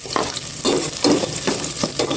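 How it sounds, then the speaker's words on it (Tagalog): Garlic sautéing in hot cooking oil in a casserole pot gives a steady sizzle, broken by several louder bursts of stirring and scraping, close and loud with no talk. "Maggisa na po ako ng bawang."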